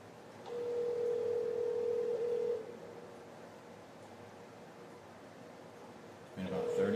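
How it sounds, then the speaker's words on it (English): An outgoing phone call rings back with a steady ringback tone lasting about two seconds, followed by a long silent gap and the start of a second ring near the end, heard close and clear over a telephone line. "fixing to make another phone call, see if they pick up"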